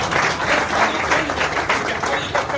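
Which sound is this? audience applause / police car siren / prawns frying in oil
audience applause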